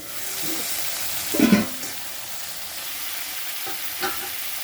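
Flat beans sizzle steadily in a hot pan over a high flame, with a spatula scraping and tossing them in a few distinct bursts against the constant frying hiss, and no talk.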